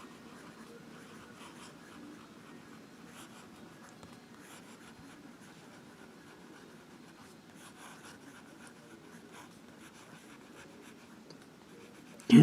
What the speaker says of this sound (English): Now some writing.